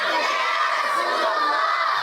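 A large crowd of students shouts religious slogans in unison at a group milad gathering, a loud, dense, sustained wall of voices throughout.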